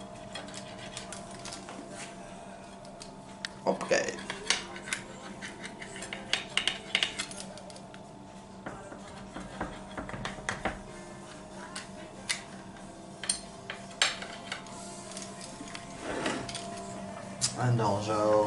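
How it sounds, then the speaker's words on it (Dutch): Repeated rolling and scraping of a pizza cutter slicing pizza on a board with occasional clacks, while a person speaks briefly and faint background hum continues. "Dat is zo handig eigenlijk, pizza snijden."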